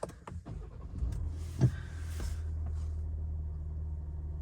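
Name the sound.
Ford Ranger MS-RT engine starting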